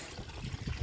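Water trickles down from a garden pond's waterfall box into the pond below, a soft, steady low splashing and dribbling that runs continuously and grows slightly busier toward the end.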